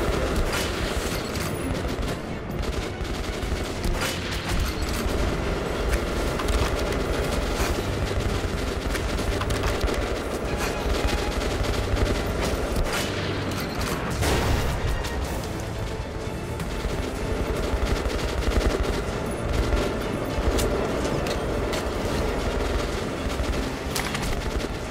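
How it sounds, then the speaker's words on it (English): Sustained, dense gunfire from the player's weapons in Metro Last Light Redux, a continuous loud barrage of shots and booms running the whole stretch with no break. "I'm shooting"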